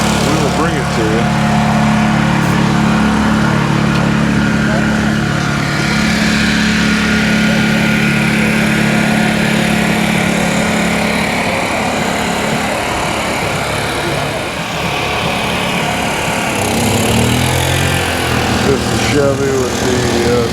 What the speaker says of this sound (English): Fortunately, there's some generators going.